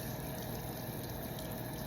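Steady tap water running over hands at a sink while rinsing, a continuous close hiss holding level throughout with no talk.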